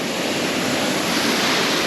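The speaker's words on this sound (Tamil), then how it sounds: "சின்ன அருவி தான், நல்ல ஃபோர்ஸ் மக்களே." Small hidden waterfall near Courtallam on a road trip route, pouring with strong force; a loud, steady, broadband rush of falling water fills the scene continuously with no voices.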